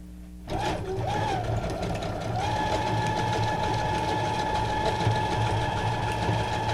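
A sewing machine stitches a decorative pattern on a junk journal, running steadily and close by with a continuous mechanical whir and rapid needle rhythm, alone without talk.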